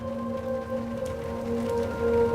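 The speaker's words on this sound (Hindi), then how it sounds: "तेज बारिश हो रही है" Heavy rain pours steadily in an indoor domestic drama scene, a dense continuous hiss of falling water that holds at a fairly loud, even level throughout, with a faint sustained tonal hum underneath and no talking.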